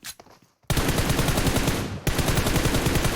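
Rapid automatic gunfire in a hide-and-seek shooter video game, a brief quiet moment before dense, loud bursts of rattling shots that pause briefly and resume.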